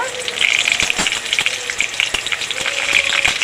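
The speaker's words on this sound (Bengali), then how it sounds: "গরম তেলের মধ্যে কালো জিরে আর দুটো কাঁচা লঙ্কা ছেঁড়া দিয়ে দেব" Black cumin seeds and torn green chillies sizzle in hot oil during a Bengali bean and potato curry preparation, a steady close hiss with a few sharp crackling pops and no talk.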